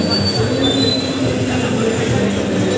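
A small ride-on toy train for children runs in a mall at Christmas, giving a steady close rumble with high metallic squeals of wheels on track and a busy crowd murmuring under it.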